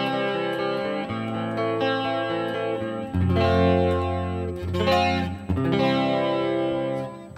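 An electric guitar played with a pristine clean tone through a Valeton GP200 multi-effects unit, chiming chords and single notes ringing out clearly with a shimmering sustain, alone and close.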